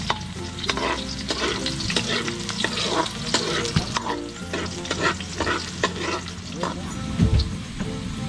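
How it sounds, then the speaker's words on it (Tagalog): Garlic and onion frying in a hot pan make a dense, steady sizzle, broken by repeated clatters of stirring and a sharper knock near the end, with a steady tonal hum running beneath. "ilagay na natin tong bawang. Saka sibuyas"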